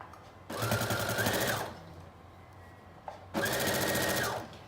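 A sewing machine stitches along the edge of a knit fabric dress in two bursts of fast, even whirring, each lasting about a second, with a quiet gap between them.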